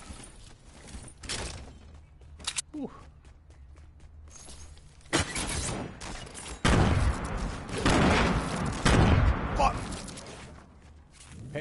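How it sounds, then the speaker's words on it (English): Gunfire crackles in a squad-mode shooter video game, bursts of shots and sharp impacts scattered between stretches of quiet, with players talking over the action. "I heard them gunshots."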